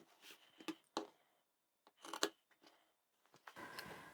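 Scissors snipping through lined fabric for a zippered bag, several short crisp cuts in uneven bursts with quiet pauses between, close and fairly soft, no talking.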